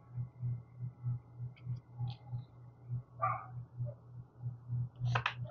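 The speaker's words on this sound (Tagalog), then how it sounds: "Ang galing no nung aso, sumasabay sa pag nagsasalita ako." A dog barks a couple of times, short and faint, somewhere in a room, over a steady low pulsing hum that runs the whole time.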